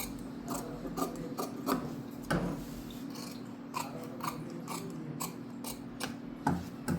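Scissors snip through blouse fabric while cutting a deep curve at the armhole of a back-open, front prince-cut blouse, giving close, irregular crisp clicks and short rasping cuts over a steady low hum.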